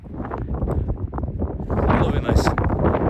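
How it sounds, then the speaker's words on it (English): Strong mountain wind buffets the microphone on the summit of Mount Moosilauke in the White Mountains along the Appalachian Trail, a loud continuous rumble that swells and stays heavy through the second half. "It's windy, but it's great."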